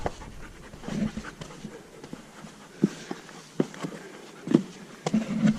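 A dog pants on a desert hike in Gold Butte National Monument, Nevada, with soft, quick breaths heard close by. Scattered footsteps and scuffs on rough ground mix with the panting.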